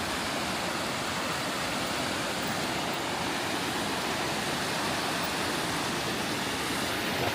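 Cluny Water rushing through Braemar, a steady broadband roar of flowing river water heard close and loud without a break, with no talk over it.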